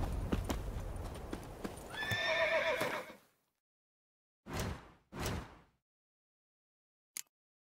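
Geralt's horse Roach from the video game The Witcher 3, heard as a loud whinny over clopping hooves, then two separate thumping hoof sounds after a silence and one sharp click, all close and with no talking.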